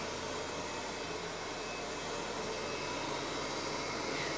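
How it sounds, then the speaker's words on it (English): A Kirby G4 vacuum cleaner runs on a hard surface floor, giving a steady, even motor whine and airflow hiss that holds unchanged throughout with no talking. "You are now ready to vacuum any hard surface floor."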